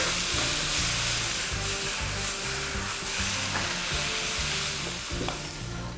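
Onion, green chili and tomato fry in a pan for a Kerala-style pepper chicken, giving a steady loud sizzle with repeated scraping stir strokes throughout and no talking.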